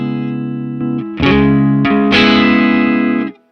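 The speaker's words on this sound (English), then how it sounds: "this kind of overdrive I'm just using to get a little bit of tone, a little bit of an extra lift" Electric guitar run through an overdrive pedal in AmpliTube 5 amp-simulation software, set for mild gain and a slight tonal lift; sustained chords ring out loud and alone, with a few restrikes before a clean cutoff.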